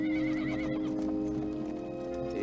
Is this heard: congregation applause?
no